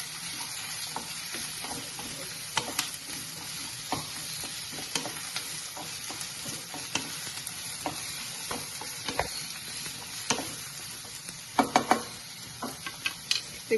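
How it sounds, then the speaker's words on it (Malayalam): Lightly crushed shallots sizzle steadily in hot ghee or oil while a spoon stirs them, scraping and clinking against the pan in irregular knocks, close and without talk. "കൊച്ചുള്ളി ഞങ്ങൾ ചെറുതായിട്ട് ചതച്ചെടുത്തിട്ടേ ഉള്ളൂ. ഇവനെ നമുക്ക് ഇളക്കാം."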